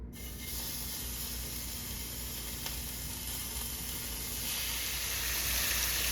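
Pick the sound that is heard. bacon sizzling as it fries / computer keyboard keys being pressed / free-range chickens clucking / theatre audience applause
bacon sizzling as it fries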